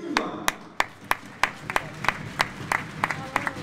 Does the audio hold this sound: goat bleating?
no